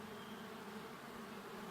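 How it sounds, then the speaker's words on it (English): Bees swarming around an open hive frame on a ranch, a steady, dense buzzing drone holding close and even throughout with no voices. "A lot of bees on there."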